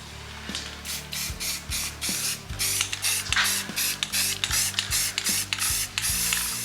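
Flat black spray paint hisses onto metal pieces in a series of short bursts, each spray a loud close whoosh separated by brief pauses, over a low background hum.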